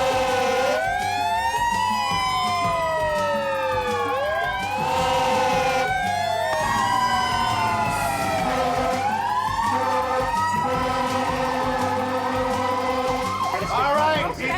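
An emergency siren wails loudly and steadily, its rising and falling sweeps repeating continuously with engine rumble beneath, sounding close and persistent throughout.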